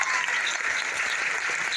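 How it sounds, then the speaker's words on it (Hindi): Steady applause from an audience at a business plan seminar fills the room continuously, even and moderately loud with no voices. "तालियां दिल से बजाइएगा"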